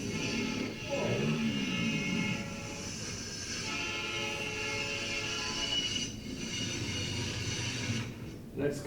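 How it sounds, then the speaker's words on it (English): A train rumbles along railroad tracks with a sustained, steady roar and tonal horn-like drone throughout, close and continuous, with a voice heard briefly at the start. "when there's a train that comes around the curve?"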